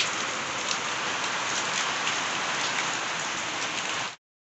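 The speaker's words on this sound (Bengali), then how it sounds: "দেখো কি বৃষ্টি হচ্ছে, দেখেছো? প্রচুর প্রচুর বৃষ্টি" Heavy rain pours down as a dense, loud, even hiss of drops on surfaces, steady throughout before cutting off abruptly near the end.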